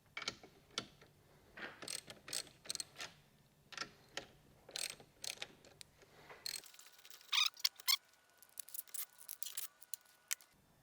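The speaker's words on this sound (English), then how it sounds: "I'm going to grab a 13mm socket and we'll undo the 2 M8 nuts." A ratchet with a 13mm socket undoes M8 nuts on a drift kart build, giving repeated quick clicking bursts in close succession, loud and near, with a sharper run of ratcheting near the end.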